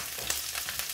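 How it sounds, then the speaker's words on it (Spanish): Tacos dorados sizzle and crackle in hot oil, a close, steady frying hiss with small pops, no voices. "Vamos a estarle aquí moviendo un poquito para que se vaya todo friendo despacito"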